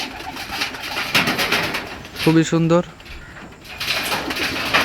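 Pet pigeons, young birds kept with their parents in a loft, give a single soft, throaty coo midway, close and short, while someone talks over the steady background noise.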